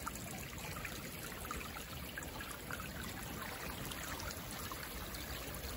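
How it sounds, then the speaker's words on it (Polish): A small stream flows back into its bed along the edge of reeds, a continuous close trickling and babbling of water with no pauses and no voices. "Tutaj strumyk wraca do swojego koryta."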